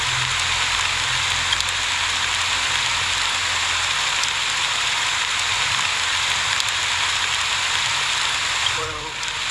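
Steady rain falling in a video game, a dense continuous hiss of drops on surfaces, loud and even throughout before easing slightly at the very end.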